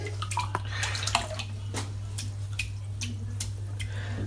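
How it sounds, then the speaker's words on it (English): A Yaqi barberpole synthetic shaving brush is dipped into water, giving soft sloshing and dripping splashes in short bursts over a steady low hum, close and quiet, with no talking. "Right, dip the brush in the water."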